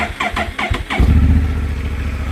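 A motorcycle engine cranks with a few rapid sputters, then catches and settles into a loud, throbbing idle close by.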